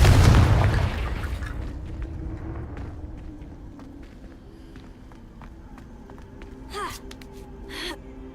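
A Confringo fire spell bursts with a loud boom at the start of a Hogwarts Legacy fight, its rumble fading over several seconds while softer footsteps and two brief sharp effects follow later.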